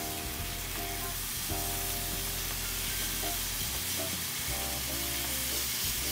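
Steady, loud sizzling and hissing of sous-vide pork chops frying in a hot pan, a dense continuous crackle with slight shifts as the meat is flipped, no talking.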